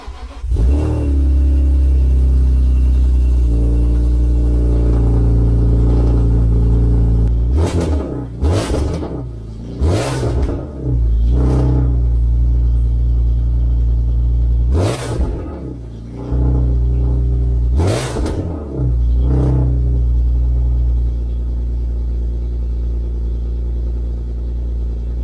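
BMW E46 M3 GTR engine breathing through a prototype Schmidtmann rear muffler, a deep loud idle rumble broken by several sharp throttle blips that rise and fall back, heard close with no talking.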